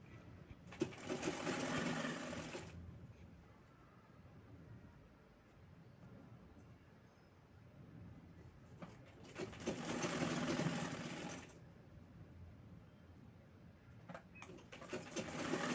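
A sewing machine stitches a strip onto the sleeve of a long one-piece dress cut from a reused Paithani saree, running in two steady whirring bursts of a couple of seconds each, close, with quieter pauses between.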